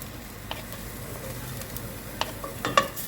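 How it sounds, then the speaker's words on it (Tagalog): Garlic and onion sautéing in a pan, a soft, faint sizzle under a few sharp clicks and scrapes of a utensil stirring against the pan, with no voices. "gisahin lang natin yung bawang, and then sibuyas"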